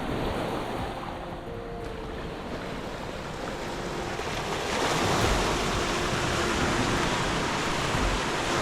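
Heavy surf crashes and rolls continuously onto an island shore at Haenam, South Korea, a loud steady roar of breaking waves with wind buffeting the microphone amid light rain.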